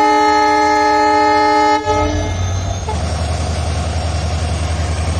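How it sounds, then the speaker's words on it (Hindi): The decorated Belagavi–KSR Bengaluru SF Express, train 20654, departs on its third anniversary. Its loud, near horn blares for about two seconds, then gives way to a heavy, steady rumble of the rolling train. "अपनी बेलगाम एक्सप्रेस डिपार्ट हो रही है अभी"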